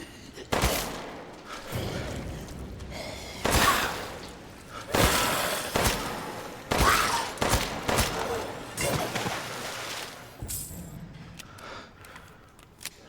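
An upgraded handgun fires in Resident Evil Village, about a dozen sharp, heavy shots spaced irregularly across the stretch, some followed by breaking and shattering debris, with a quieter tail of scattered impacts.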